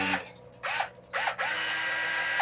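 Fold S1 electric screwdriver for assembling furniture runs in short bursts of a close, high motor whine, switching on and off three times before a steady run.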